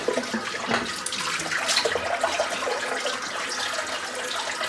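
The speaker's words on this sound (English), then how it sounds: "Just going to empty all this here out the sink." Shaving lather water being emptied out into a bathroom sink: a steady rush of splashing, gurgling water running continuously and fairly close, with no talk over it.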